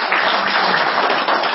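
A crowd at a political referendum meeting in Kars claps, a dense, loud, even roar of applause that holds steady for its whole short length with no voices over it.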